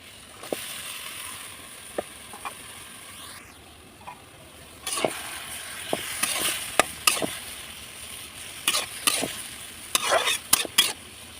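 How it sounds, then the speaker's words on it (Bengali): Chopped vegetable stems added to spiced masala frying in a pan, with scattered spatula clinks and scrapes over a soft sizzle, growing busier and louder toward the end. "এখন আমি এই যে কুচি করে রাখা ডাটাগুলো দিয়ে দিতেছি"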